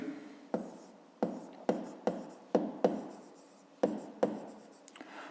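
Writing on paper while working a fifth-grade math exercise on rectangle area: about nine short scratchy strokes in uneven bursts, close and fairly quiet, with brief pauses between them and no talking.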